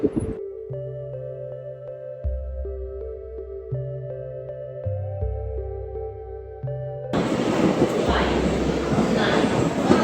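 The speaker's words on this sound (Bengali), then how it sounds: "এই মুহূর্তে আমাদের ট্রেন ফারাক্কা ব্রিজ পার আর আমাদের সামনে যে স্টেশন মালদা স্টেশন" An express train from Sealdah to New Jalpaiguri runs on after crossing the Farakka bridge, heard from inside the coach as a steady low rumble and drone. A loud, broad rushing roar then swells over it partway through, with no talking.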